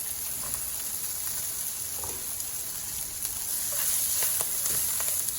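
Fried potatoes with celery and chili stir-fried in a pan, a steady close sizzle and frying hiss with faint scraping stirs throughout, no talk.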